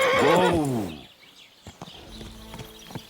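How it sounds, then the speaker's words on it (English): A horse in Kingdom Come: Deliverance II gives a loud, close whinny, followed by a few scattered hoof clops and soft movement as it settles. "This must be the ugliest horse I've seen in my life."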